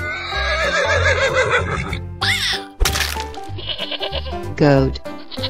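A horse neighs in short, wavering cries mixed with bleating animal calls, a sharp crack and other busy sounds, all close and loud.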